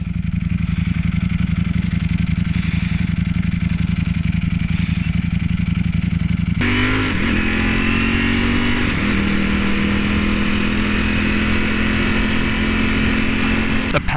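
A 2019 Ducati Panigale V4 superbike is ridden: a loud, steady engine drone that jumps to a harsher, higher note partway through and then holds a sustained tone while the bike pulls through the gears.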